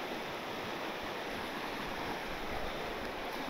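The McKenzie River, flowing down from the Cascades, rushes in a steady, dense wash of water noise, continuous and fairly loud from start to finish with no voices.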